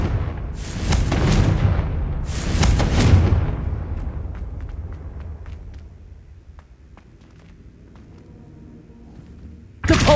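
Confringo fire-spell blasts cast in Hogwarts Legacy: two loud, booming explosions close together, each trailing into a long, fading rumble and scattered crackles, then a third sharp blast at the end.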